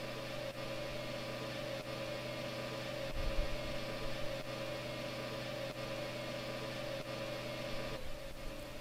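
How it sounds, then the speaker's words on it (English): Steady engine drone from a crashed airship in the game Grandia II, a constant, looping hum with a low rumble and faint periodic ticks, no voices. "And the engine noise is really annoying."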